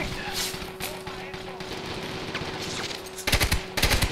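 Enemy gunfire in the video game Army of Two: The Devil's Cartel, with sustained rapid shots under a steady electronic tone, then two louder, closer bursts near the end.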